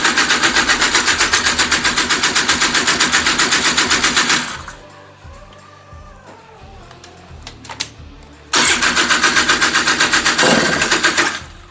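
A Honda Odyssey FL350 on its first start with a newly installed DG exhaust, choke open, fires with a loud, rapid machine-gun-like exhaust rattle. It cuts out for about four seconds, then bursts back into the same hard staccato running.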